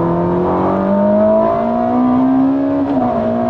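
A tuned 1200 hp Ferrari SF90 accelerates hard, its engine note climbing steadily in pitch with a smooth, loud, racing-car wail and a brief dip near the end as a gear changes.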